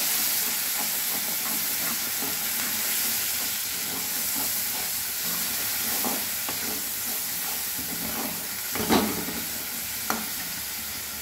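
Ginger-garlic paste and red and green chilies sizzling steadily in a pan for a chicken curry, a constant loud hiss with a few soft scrapes of stirring and a sharper clink near the end.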